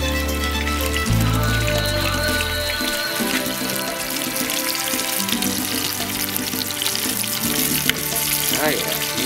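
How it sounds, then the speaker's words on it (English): Beer-steamed brats and kielbasa sizzle and crackle steadily in a hot pan, a continuous close frying hiss with scattered pops that carries on throughout without talk. "There's the sizzle I've been wanting to hear."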